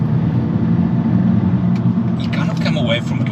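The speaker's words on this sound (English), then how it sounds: "Step on it and there's just the wheel spin." 2022 Volkswagen Polo GTI accelerating hard with wheel spin, a steady close engine drone and road rumble throughout with light scraping or chirping near the end.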